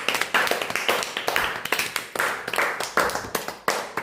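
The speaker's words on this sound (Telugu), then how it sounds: "give claps" A classroom of children clapping their hands together, a run of quick, fairly close claps in uneven bursts that repeat across the stretch, with a faint voice underneath.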